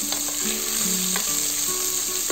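Sliced onions frying in oil in a pan for a spinach dal curry, making a continuous loud sizzle close up with faint tonal hum beneath, no talking.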